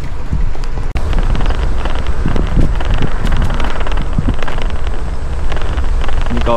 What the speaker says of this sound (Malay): Ni kawasan angin sikit, berangin sikit.